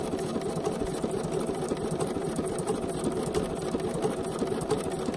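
A sewing machine stitches steadily around the edge of a quilted fabric postcard made with paper, running in a fast, even mechanical whir that holds close and constant throughout with no talk.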